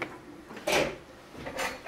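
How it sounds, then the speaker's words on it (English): A door with ice built up in front of it is pushed shut, giving two dull knocks about a second apart, moderately close, with no talking over them. "Close the door."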